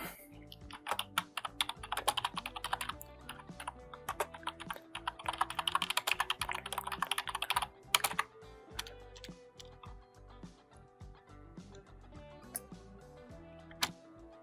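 Keys clatter on a computer keyboard in bursts of quick, close taps, dense at first and then sparser with pauses between strokes, with no talking.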